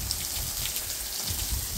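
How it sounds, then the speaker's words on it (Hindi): Artificial rain from a spray falls steadily around a pool, a dense, even hiss of droplets pattering close by with no breaks. "आर्टिफिशियल बारिश होने लगा।"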